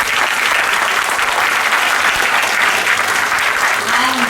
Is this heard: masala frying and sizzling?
no